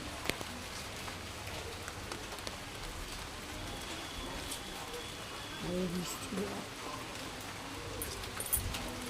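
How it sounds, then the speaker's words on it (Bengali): Steady rain pours down nonstop near a home vegetable patch, a dense, even hiss of drops with occasional louder splashes, a voice faintly present beneath it. "বৃষ্টি হচ্ছে, সারাক্ষণ বৃষ্টি।"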